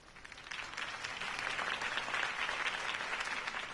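A crowd applauds in a video game scene from Batman: The Telltale Series, the clapping rising after a campaign speech by Harvey Dent and swelling into a dense, steady ovation heard at a moderate distance.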